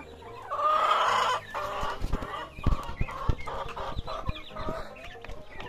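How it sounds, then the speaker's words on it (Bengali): Kadaknath chickens on a poultry farm cluck and call steadily, with a brief, louder stretch of drawn-out calling near the start and then a run of short, close clucks. "এই হচ্ছে কাদাকনাথ মুরগিগুলা"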